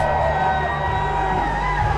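Wrestling crowd in the Great Hall cheers loudly and without a break, on its feet, with shouts and whoops rising out of a dense, continuous roar.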